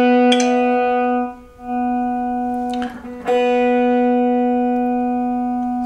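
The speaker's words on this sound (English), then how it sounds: "So string two B should sound like this." A Les Paul electric guitar's second string, B, is plucked and rings out with a clear, sustained tone, is struck again about a second and a half later, then again near three seconds, and each note decays slowly with no talk.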